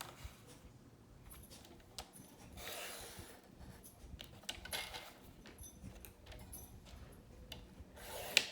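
Paper pages of a pet-themed mini album being burnished, soft quiet rubbing and scraping strokes repeated in uneven rhythm, close but faint.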